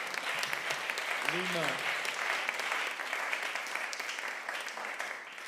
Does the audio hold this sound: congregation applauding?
yes